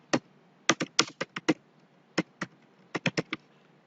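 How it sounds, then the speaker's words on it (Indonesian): Typing on a computer keyboard, with sharp close key clicks in short irregular bursts and brief pauses, including presses of the enter key, heard alone in a quiet room. "Kita melakukannya dengan mencet tombol enter di keyboard."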